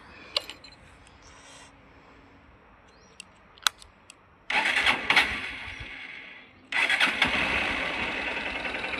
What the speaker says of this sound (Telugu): మీకు ఇంజిన్ కానీ స్టార్ట్ చేసి చూపిస్తాను.